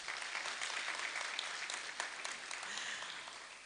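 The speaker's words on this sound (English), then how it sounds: "A round of applause." Audience applause at a Women and Girls in Cyber conference in Lilongwe, a dense, steady clapping from a crowd in a hall, sustained throughout at moderate distance.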